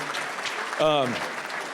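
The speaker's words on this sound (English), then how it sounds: "a big round of applause" Audience applause for event organizers, a steady wash of clapping under a brief voice that rises for about half a second midway.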